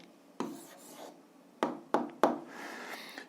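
Pen or chalk writing on a surface during an algebra lesson: a few short scratching strokes with sharp taps, close and fairly quiet, with no talk.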